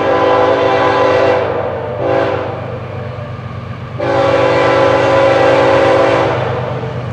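An FEC freight train locomotive passes close by, sounding its horn in loud sustained blasts with a brief break in between. A low rumbling engine drone runs steadily underneath.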